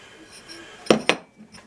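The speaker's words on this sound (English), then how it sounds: "the burner cap comes off, and then the burner surround comes off and can be soaked in the sink" Metal burner cap and surround lifted off an LG slide-in dual-fuel range, two sharp close metallic clinks in quick succession, then faint lighter taps over a quiet room, no talking.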